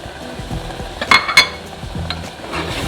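A spoon stirs cranberry sauce with orange juice in a pot on the stove, soft swishing strokes with a couple of sharp clinks against the pot's rim midway, a faint simmer underneath.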